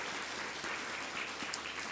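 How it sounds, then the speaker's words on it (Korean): A congregation at a Korean church Sunday service in Chile applauds in welcome, a faint, continuous patter of hands heard from a distance. "우리 박수로 환영해 주시겠습니다."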